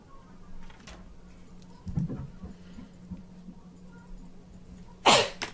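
A single short, sharp sneeze bursts out near the end, loud and close, over quiet room tone with a faint earlier rustle.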